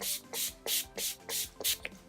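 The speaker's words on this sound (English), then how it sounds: "I'm going to go in with my Urban Decay All Nighter Setting Spray." Urban Decay All Nighter setting spray misted in six short, even bursts spaced about a third of a second apart, close and fairly quiet, with no talking.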